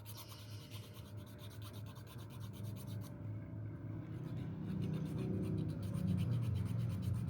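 A nail file rasps against press-on nails in quick, rhythmic back-and-forth strokes, close and fairly soft, growing slightly louder toward the end with no talk.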